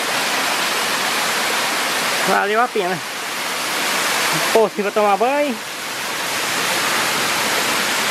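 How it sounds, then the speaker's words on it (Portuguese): Waterfall in the Serra da Ponte Nova at Palmeiras de Goiás, a steady broadband roar of falling water that fills the whole clip, with two short bursts of someone speaking over it. "E aqui está a cachoeira."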